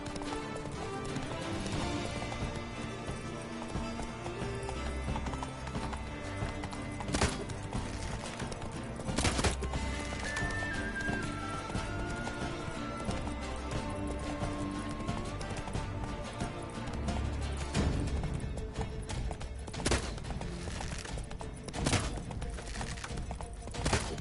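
Hooves of Roach, a horse in The Witcher 3 game, clip-clop in a steady trotting rhythm under game music and ambience, with a few sharp louder hits and a brief whinny-like tone.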